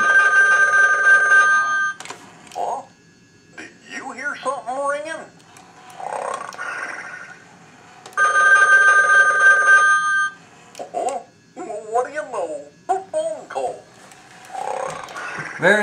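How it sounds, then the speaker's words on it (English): A Disney Goofy novelty telephone rings in bursts, each followed by the character's cartoon snoring voice, and the ring-then-snore cycle repeats twice up close. "We have a Disney collectible, it is a Goofy phone and I'll demo it for you right here."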